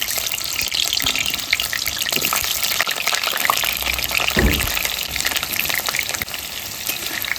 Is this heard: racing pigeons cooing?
no